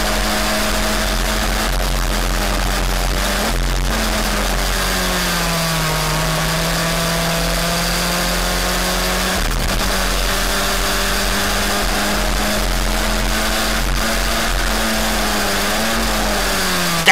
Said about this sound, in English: You see cars pairing off in the slipstream.